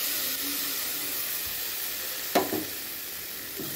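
Ground tomato paste hits a hot pan of shallot curry with a steady, loud sizzle and hiss throughout, and a couple of brief stirring scrapes partway through, with no one talking.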